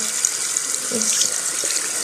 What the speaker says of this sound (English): just kind of touch it with your fingers and kind of run the water